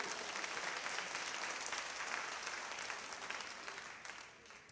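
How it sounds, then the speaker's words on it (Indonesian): Church congregation applauding during an evening worship and prayer workshop sermon, dense steady clapping from many hands that holds strong for about four seconds before tapering off toward the end. "掌声归给我们的神。"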